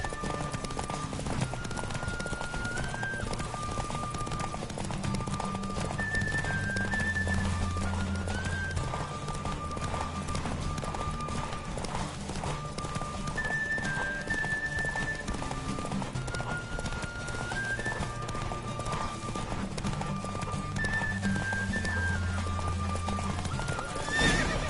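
Roach, a horse in The Witcher 3, gallops through a race, steady rapid hoofbeats driving on for the whole stretch with occasional whinnies and tonal music running underneath.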